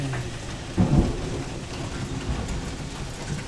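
Big hail about the size of a little pinball pelting down outdoors in a storm, with a dense rushing patter and a few heavier thuds close by, and no talking.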